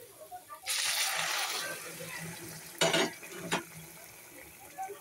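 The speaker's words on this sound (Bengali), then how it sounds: "এবার গরম জল দিয়ে দেব।" Hot water poured into a simmering potato curry with fish, a rushing splash that runs for about two seconds, then a shorter second pour and a brief clink of the pot, with faint talk around it.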